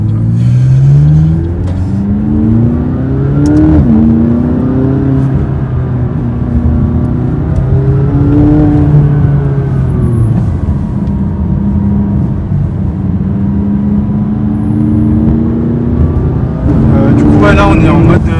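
McLaren 570S twin-turbo V8 supercar driving on open roads, its engine loud and close throughout, with repeated rising revs as it accelerates through the gears, a steady drone between pulls and a fresh surge near the end.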